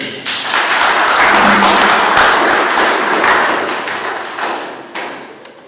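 Audience applause at a literary gathering, the Primera Jornada Literaria Huaracina, a dense burst of clapping that swells loud and steady, then tapers with a few scattered late claps near the end.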